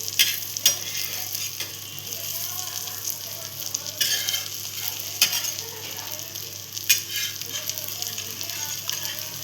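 Eggs for anda fodi fry in a pan over a low gas flame, giving a steady close sizzle with occasional clicks and scrapes of a spatula stirring and turning them.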